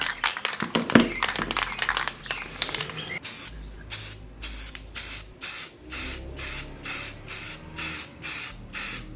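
Rust-Oleum paint plus primer sprayed from an aerosol can onto an old HP PC case: loud close hissing spray, first irregular, then a steady run of about ten short rhythmic bursts.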